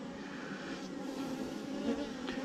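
Honey bees buzz steadily during a hive inspection in Texas, a soft continuous hum of many insects close by, with a few louder passes near the ear.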